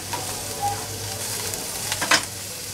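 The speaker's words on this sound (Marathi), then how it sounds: "ही सुद्धा मोठ्या गॅसवरच परतून येणार आहे." Capsicum and onion sautéed on a high gas flame for chilli paneer masala, with a steady close sizzle and intermittent spoon stirring scrapes in the pan.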